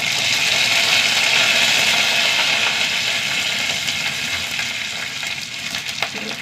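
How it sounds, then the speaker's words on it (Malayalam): Mustard seeds, dried red chillies and curry leaves sizzle loudly in hot coconut oil in a pan, a dense, continuous crackling hiss that eases slightly toward the end, with a few sharp pops. "എണ്ണ ചൂടായി കുറച്ച് കടുക് ഇട്ട് കൊടുക്കാം രണ്ട് വറ്റൽമുളക് കുറച്ച് കറിവേപ്പില"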